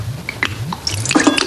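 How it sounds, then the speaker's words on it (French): Dirty water poured into a salad bowl, heard as a brief close splashing and trickling with a few bright drips as the liquid lands and fills. "Maintenant, on verse l'eau sale dans le saladier."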